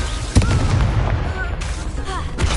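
Blasting spell explosions go off in Hogwarts Legacy, a sharp bang followed by rumbling bursts and whooshing crackles, with a voice speaking over the noise of combat.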